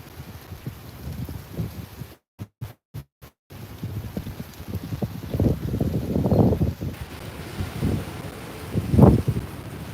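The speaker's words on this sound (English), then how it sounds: "Hopefully the wind noise isn't too bad on your guys' end." Wind buffets a microphone outdoors on a windy morning at sunrise in Playa del Carmen, giving low irregular rumbling gusts with brief dropouts early on.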